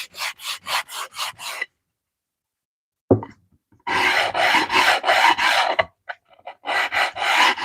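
Hand sanding wood with 80 grit sandpaper, brisk rasping strokes in a quick run of about seven, a pause, then a long stretch of back-and-forth scraping and a few more strokes, close and clear.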